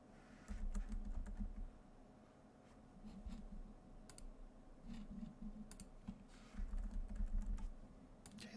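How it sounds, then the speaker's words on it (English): Fingers type on a computer keyboard in bursts, with quiet, close key clicks separated by short pauses in a quiet room. "We type in our NTP server."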